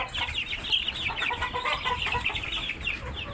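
A brood of fifteen-day-old hill chicken chicks on a small farm peeps constantly. Dense, overlapping high chirps come from many birds close by, with no pauses.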